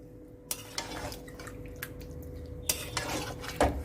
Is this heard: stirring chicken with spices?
yes